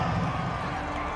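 Stadium crowd at an American football game roars in a dense, steady wash of noise from start to finish, loud and continuous with no single voice standing out.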